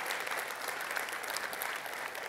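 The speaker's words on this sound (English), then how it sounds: "So big round of applause for Mary Harvey for her work on that." A conference audience at a women's soccer summit applauds, a brief, even burst of many hands clapping together, moderately loud and sustained with no voices over it.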